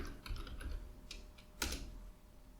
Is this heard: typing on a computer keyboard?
yes